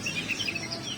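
A perenjak kelawu songbird from Sumatra sings a quick run of thin, high whistled notes, fairly faint over a light background hiss.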